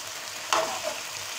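Spices are stirred into chicken karahi in a pan: a soft, steady sizzle with one quick scraping stir partway through, close and fairly quiet.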